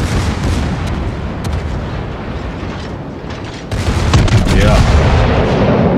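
Heavy guns of the battleship Gneisenau fire in a naval video game, a deep rumbling roar of cannon fire that swells into a louder, booming salvo partway through, with a brief voice over it.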